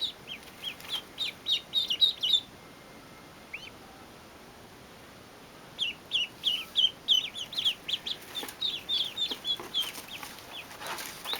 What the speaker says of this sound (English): Look at the little ducky.